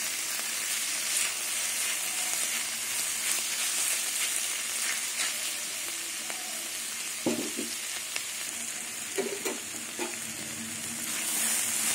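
Mushrooms fry in oil in a pan, giving a steady close sizzle with occasional stirring scrapes and clinks against the pan, and no talking.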